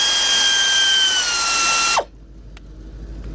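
An air ratchet with a 15 mm shallow 3/8-drive socket loosening bolts on a Ford Explorer front hub, a loud sustained whine that winds down abruptly, followed by a few faint clicks.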